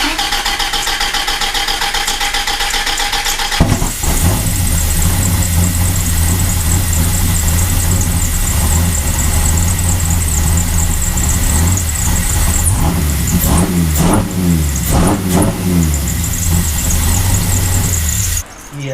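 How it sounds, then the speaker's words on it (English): A widebody Dodge Viper with half its spark plugs misfiring cranks over and fires into a loud, rough idle, then revs up and down in several swells before cutting off abruptly near the end. "by that logic, the car should start again."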